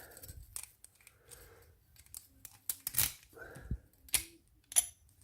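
Keys rattle and click metallically in a Stanley laminated padlock with a stuck shackle, giving irregular scrapes and sharp clacks at close range, with bursts louder toward the end.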